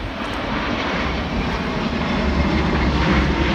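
Jet engines of an Airbus A350 roar as they power up in flight at the Farnborough airshow, a loud, broad, steady rumble that swells slightly toward the end.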